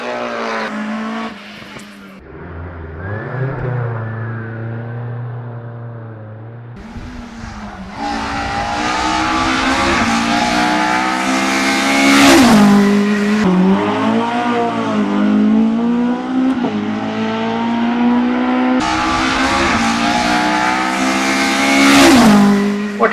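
1960s race cars brake hard for a causeway on an Australian circuit, engines revving loudly and pitching up and down through downshifts and acceleration, with tyres squealing and two cars battling closely.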